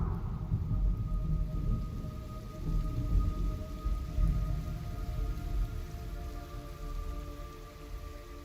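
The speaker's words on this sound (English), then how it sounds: "It's raining blood." Steady, dense rainfall with low rumbling, likely thunder, fills a stormy scene in Metal Gear Solid Delta: Snake Eater, a continuous loud wash of falling rain with no speech.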